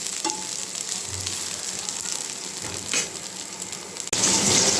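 Koi fish curry gravy with cauliflower and potato bubbling in a pot, a steady sizzling hiss with small pops that swells louder near the end.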